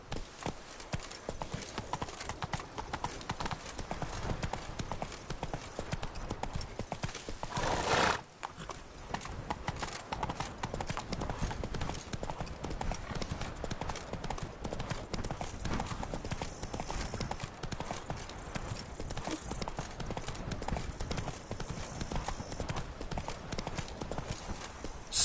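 Roach, a horse in The Witcher 3: Wild Hunt, galloping with steady, loud clip-clop hoofbeats throughout, close and continuous, with a brief whinny or disturbance partway through.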